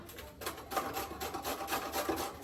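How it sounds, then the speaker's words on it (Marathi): Carrots being grated on a handheld metal grater in a home kitchen, a steady series of rasping strokes close up, each stroke a short scraping burst in an even rhythm, with no talking. "चला आता आपण गाजर किसून घेऊया आपण म्हणजे मी किसतीये तुम्ही बघा"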